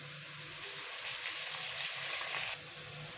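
Onion and ginger-garlic paste frying in a pan for Dhaba-style matar qeema, a steady close hiss and sizzle running throughout without pause.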